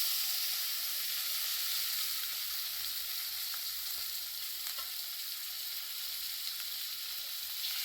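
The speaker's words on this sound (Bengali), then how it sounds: "এই মাছগুলো তো নরম, অল্প অল্প করে ভেজে নেব।" Soft pabda fish frying in hot oil, a dense, steady sizzle and crackle close by with faint pops scattered through, no voices.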